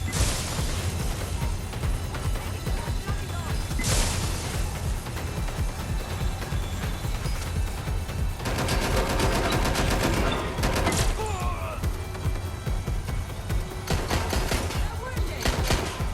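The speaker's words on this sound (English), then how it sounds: "We have gunfire." Rapid bursts of automatic gunfire and single shots ring out repeatedly in a spy video game firefight, loud and dense, with voices talking over parts of the exchange.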